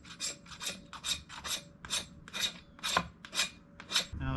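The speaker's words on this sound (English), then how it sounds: "their spines and their ability to spark ferro rods" Rapid rhythmic rasping as a camp knife spine is scraped down a ferro rod, about nine quick strokes in a row, close and crisp with no talk.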